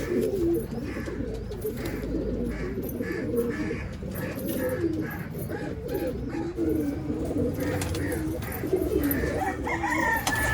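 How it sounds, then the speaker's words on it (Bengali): Madrasi pigeons coo in a pigeon loft, with repeated low, throaty calls overlapping from several birds at close range, joined by faint background chatter and rustling. "একদম বন্ধ দমের পায়রা।"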